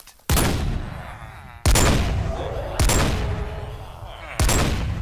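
Four sharp gunshots ring out in a video game, each a sudden loud crack followed by a lingering echoing decay, spaced unevenly about a second apart.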